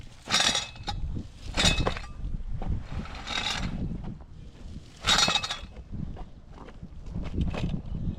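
Nuts, bolts, washers and rubber scraps shaken out of a FOD sweeper, loud bursts of metallic clinking and rattling in repeated waves, close by with rustling between.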